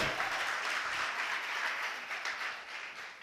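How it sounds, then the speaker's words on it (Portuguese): A church congregation applauds, a thick even clatter of many hands that holds strong and then gradually fades toward the close. "Você pode aplaudir ao Senhor, glória a Deus!"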